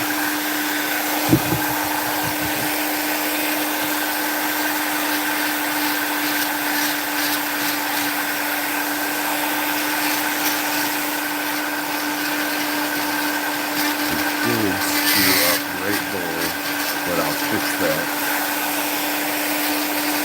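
A rotary carving tool fitted with detail burrs working into wood, a continuous high-pitched electric whine holding steady throughout with faint grinding scratches and small shifts in pitch as the burr bites.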